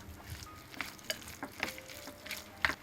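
Seasoned minced meat filling for dumplings, mixed with cooking wine, salt, soy sauce, sesame oil and pepper, stirred in a bowl; close, wet squelching and clicking strokes in an irregular rhythm, fairly quiet, no talking.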